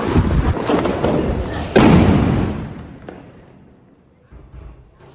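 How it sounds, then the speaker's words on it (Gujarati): A firecracker bomb goes off shortly before Diwali, a single heavy booming thud that rolls out and fades over a few seconds, with faint room noise and a small knock afterward. "હજી દિવાળી નથી આવી અને ધડાકા ચાલુ કરી દીધા છે પોરનો બોમ્બ પડ્યો"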